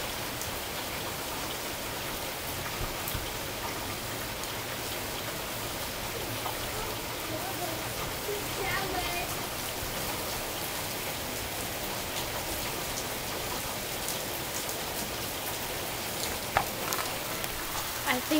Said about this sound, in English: Whoa, rain now. Yeah, it's raining.